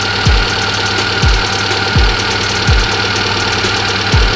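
A fuel-injected car engine idles at 80 degrees while its RPM is being adjusted, running close and loud with a steady hum and a heavy low thump recurring about every 0.7 seconds.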